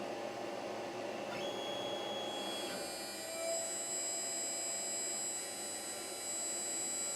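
A CNC router spindle winds up to about 20,400 RPM during contour routing, its steady high whine rising in pitch over the first few seconds and then holding level, close and fairly quiet.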